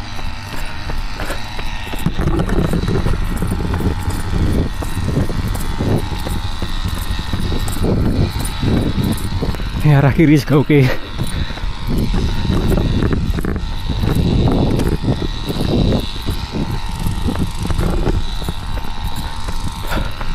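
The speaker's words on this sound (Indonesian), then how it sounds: "Kalau di sini banyak suara mesin motong rumput, agak berisik jadinya." Grass-cutting machine running beside the Tandon/Krisak reservoir in Wonogiri: a loud, steady, droning engine whine fills the whole stretch, with a short spoken remark partway through.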